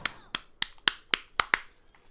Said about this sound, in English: Stop fucking doing the clapping noise.